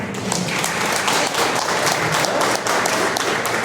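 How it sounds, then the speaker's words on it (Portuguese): Applause during an adult confirmation class, a short, close burst of group clapping, busy and steady with a few sharper hits. "Salva de palmas para a Rosiane."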